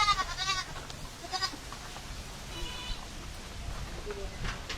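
Goat bleats, a few wavering cries near the start and again later, over outdoor background noise with some talking.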